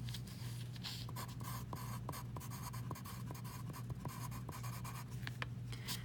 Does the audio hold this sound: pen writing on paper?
yes